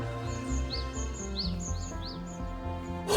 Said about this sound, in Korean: 제일 먼저 나를 반겨주는 것은 색이 고운 곤줄박이 새들이군요.